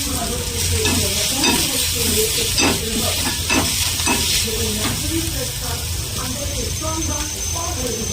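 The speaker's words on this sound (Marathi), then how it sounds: "मस्त परतून घ्यायची" Vada pav potato filling is sautéed and stirred in a pan, giving a loud, continuous sizzle and frying hiss broken by repeated scraping stirs, while a voice talks over it.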